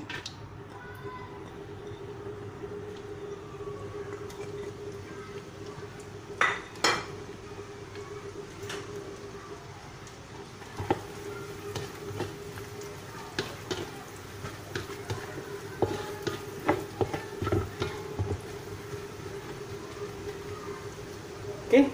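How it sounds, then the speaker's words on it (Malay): Dried anchovies frying in a pan for a Malaysian home meal, with low sizzling under clinks and scrapes of a spatula and utensils against the pan and intermittent bursts of activity. "Okey, kita goreng ikan bilis."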